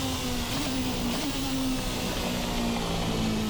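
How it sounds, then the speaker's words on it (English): Steady four-cylinder race car engine drone in a racing simulator, with a sustained low tonal hum and a faint rising whine, continuous and moderately loud with no talking, echoing between grandstand and pit lane. "That is a very, very pleasing noise. Just a 4-cylinder engine, remember."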